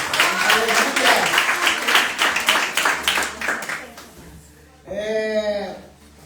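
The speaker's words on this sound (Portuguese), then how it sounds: "Vamos aplaudir aí o Senhor" A church congregation claps during a deliverance service, dense rapid clapping filling the first few seconds and then fading, before a voice breaks in alone near the end.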